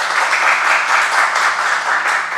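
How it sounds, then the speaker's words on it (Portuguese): Audience at a debate on the Israeli-Palestinian conflict applauds, a steady dense wash of clapping from many hands that holds evenly throughout, with no voices over it. "Gente, uma salva de palmas para eles,"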